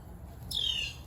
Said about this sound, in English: Got my bird on the fence chirping up there.